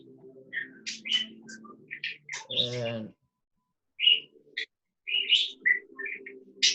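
A pet bird in a car workshop where a front-end setup is being done gives quick, high chirps and tweets in scattered bursts, fairly close but not loud, with a voice cutting in briefly partway through.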